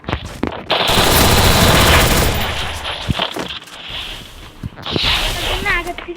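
Grenade explosions go off in a video game, with a loud, sustained blast of broadband rumble early on and another heavy burst near the end, amid rattling gunfire-like noise and faint voices.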